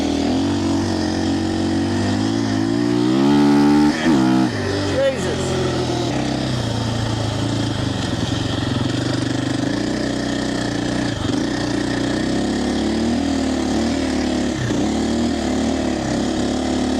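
A 2025 KTM Champion Edition motorcycle rides through deep beach sand in fourth gear, its engine bogging and then pulling under open throttle: a loud, continuous engine drone whose revs surge briefly early on, then settle into a steady roar.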